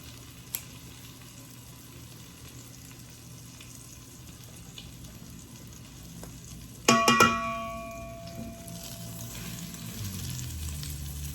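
Oversized sourdough French toast is laid into a hot pan on a low stove. The quiet kitchen breaks into a sudden sharp sizzle that settles into steady, close frying crackle.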